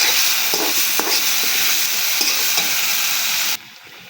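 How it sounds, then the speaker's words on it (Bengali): Potatoes fry with onion, garlic, turmeric, salt and green chilli in a pan, giving a steady loud sizzle broken by a few scraping stirs before it drops away near the end. "আলুর মধ্যে পেঁয়াজ, রসুন, হলুদ, লবণ, কাঁচা ঝাল দিয়ে দিলাম। ভালোভাবে কষাই করে নেব।"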